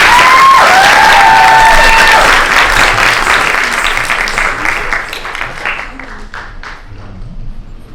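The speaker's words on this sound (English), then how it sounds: "Let's give her another round of applause." Audience applause after a Kathak dance recital, a dense wash of clapping that starts loud and full, then thins out and fades over several seconds, with a few scattered claps lingering at the end.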